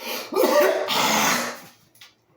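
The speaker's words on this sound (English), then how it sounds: "and you clear your throat" A person clears their throat forcefully, a rough guttural rasp in a couple of bursts, close up, ending with a small catch.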